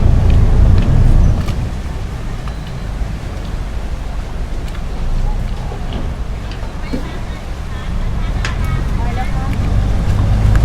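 A numbered boat's engine rumbles steadily as it pulls in to dock, with water and wind noise around it and voices talking over the low drone.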